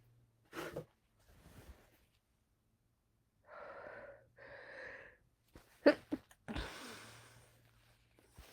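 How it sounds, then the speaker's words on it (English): A single person sneezes once, a sudden sharp burst trailing into a breathy release, following quieter gasping and sniffing breaths in a calm, quiet setting. "it makes me sneeze."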